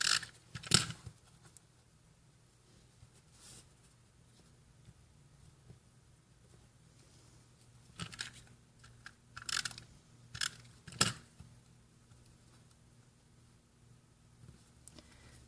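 Scissors cut card paper for a congratulations card, with scattered close snips and crisp paper rustles spread across a quiet stretch and a cluster of cuts near the end, no voices.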